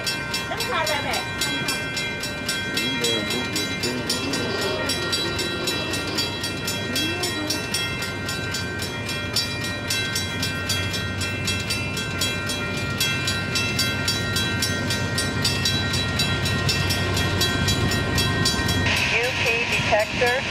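Union Pacific locomotive 6459 leads a westbound train on track 2, a loud sustained rumble of the engine and passing railcars with steady wheel noise and a squeal toward the end.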